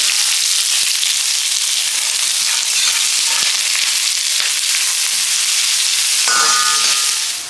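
Five large onions frying in a pan for chicken tikka dry produce a loud, continuous close-up sizzle with a few soft clicks of stirring, and a tonal hiss appears near the end.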